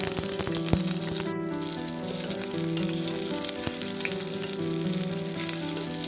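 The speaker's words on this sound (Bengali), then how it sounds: "কড়াইয়ের মধ্যে তেল দিয়ে নিলাম ফোড়নে কালো জিরা দিলাম তারপরে পেঁয়াজ কুচি দিচ্ছি" Chopped onion sizzles in oil with black cumin in a kadai as a continuous, close frying hiss. A faint steady hum runs underneath and a single sharp click sounds near the start.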